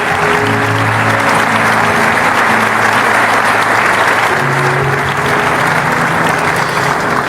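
A crowd applauds graduates at a Bible college graduation ceremony, with loud, dense, continuous clapping from many hands filling the hall and no voices over it.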